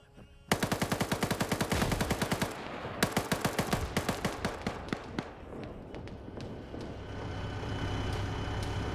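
Rapid autocannon bursts in a PvP war game match, two long strings of evenly spaced heavy shots cracking loud and close, then scattered single reports fading into rumbling vehicle and battlefield noise.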